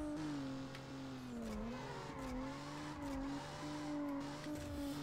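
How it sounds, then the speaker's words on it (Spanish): Engine drone of a race car accelerating in Need for Speed Underground Rivals on PSP, a steady rising and shifting pitch held throughout at close range, with a layered second engine tone beneath. "Viene un tío acelerando."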